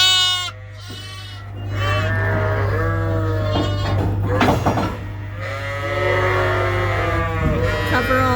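Lambs and ewes bleat repeatedly inside a barn, with overlapping high and low calls from several sheep close by, over a steady low mechanical hum.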